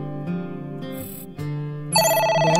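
An in-game telephone rings in the visual novel AI: The Somnium Files, a bright electronic ring with tonal bursts that repeat and grow louder toward the end, heard alone without speech.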